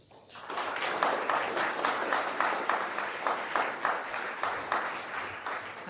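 A crowd at a civic New Year's levee breaks into applause for the mayor, swelling quickly into steady, fairly close clapping that keeps up with a loose rhythmic pulse before easing off slightly.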